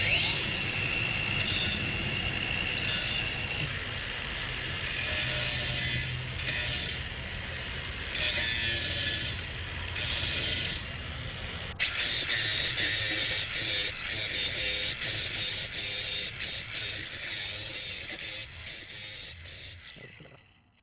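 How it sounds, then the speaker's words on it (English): A grinding attachment on a power tool during work on a smoker build gives off repeated harsh, hissing bursts that start and stop irregularly, then runs steadily before cutting off at the end. "And now to try using the grinding attachment."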